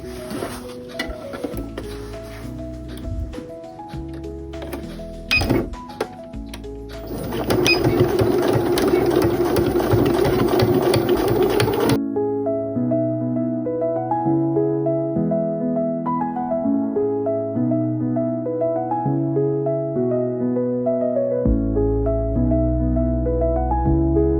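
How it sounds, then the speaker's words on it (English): A home sewing machine stitches a fabric sling bag, a steady rapid mechanical whirr running for several seconds amid quieter handling noises, followed by a stretch of soft background music. "I just sew to the edge of my presser foot, which is about 1 centimetre, back stitch at the top and bottom"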